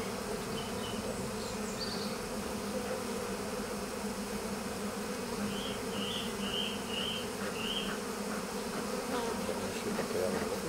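A swarm of honeybees settled on a shrub hums steadily and densely throughout, a continuous close buzzing drone with no voices.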